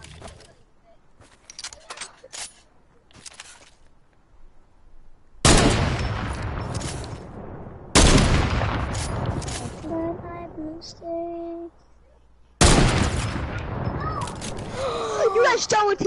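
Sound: gunfire in a video game

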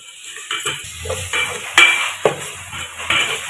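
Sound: adding ginger garlic paste to a pot and stirring

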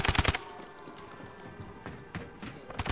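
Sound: gunfire in Call of Duty Modern Warfare video game

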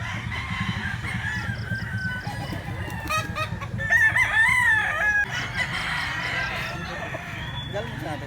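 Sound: roosters crowing

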